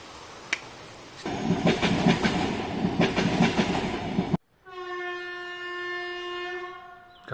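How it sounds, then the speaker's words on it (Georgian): A train near Chakvi rolls past loud and close with rumbling clatter and wheel clicks, then a long steady horn tone sounds alone after an abrupt cut. "გააჩერა მატარებელი მგონი."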